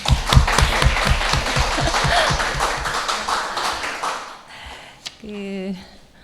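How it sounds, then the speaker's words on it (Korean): Audience clapping at a lecture-style academy session, a burst of sharp, close handclaps with a quick rhythm over the first few seconds that thins out, followed by a brief voice and a short tonal sound. "일단 박수 먼저 주시겠습니까?"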